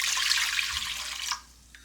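Tap water runs steadily into a measuring cup for about a second and a half, then cuts off, leaving a faint drip; two cups are being measured out for a breadstick dough with yeast and sugar.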